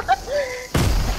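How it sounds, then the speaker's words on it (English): A video game grenade explodes in a sudden broadband burst that cuts in after a brief tonal whine, then roars and rumbles on to the end, loud and close. "gonna blow me up with a grenade"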